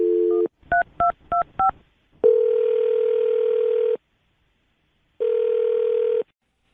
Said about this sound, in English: I'm about to dial her phone number right now